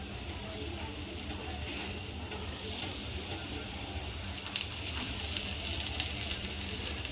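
Bombil (Bombay duck) fish shallow-frying in a pan, a continuous dense crackling sizzle with brief sharper spatters, close and moderately loud, with no speech.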